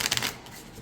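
An astrology tarot-style card deck being riffle shuffled, a quick burst of crisp flutters and snaps that fades out within a second, close up and without talk.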